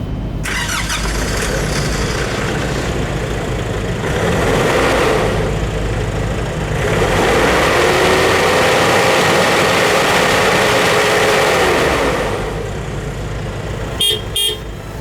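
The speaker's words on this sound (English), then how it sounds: "Listen to the sound of this beast." A Nissan Navara double-cab 4x4 pickup with a 2.5-liter four-cylinder turbo diesel starts and runs loudly close by, a steady diesel drone with a brief rev in the middle, a faint whine, and a few clicks near the end.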